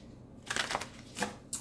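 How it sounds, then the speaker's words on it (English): Short papery riffles of cards being shuffled, a few quick bursts close by in a quiet room. "one more shuffle"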